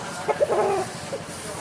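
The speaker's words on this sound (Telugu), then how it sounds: "కోడిపుంజు క్వాలిటీ అయితే చాలా బాగుంది" A rooster of the Dagger Asil type, about three kilograms, at a poultry market in Vijayawada gives a few short clucking calls close by, with faint market background noise.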